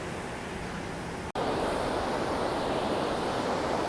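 Ocean surf at a beach gives a constant broadband roar, close and loud, with wind buffeting the microphone, a brief dropout near the start, and no voices.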